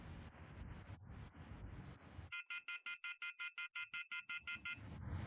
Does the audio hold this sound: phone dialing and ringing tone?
yes